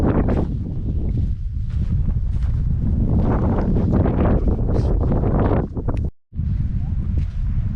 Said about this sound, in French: il y a un vent près de l'eau